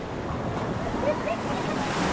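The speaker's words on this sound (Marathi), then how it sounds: "समुद्र आहे" Surf washes continuously onto a rocky beach at Devghali, Kasheli, Ratnagiri, a broad steady roar of breaking waves mixed with wind buffeting the microphone.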